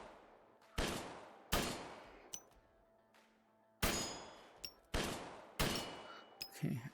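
Gunfire in the VR shooting game P1441VR: six sharp, loud single shots spaced roughly a second apart, each with a short ringing decay, plus a few lighter metallic clicks and clangs.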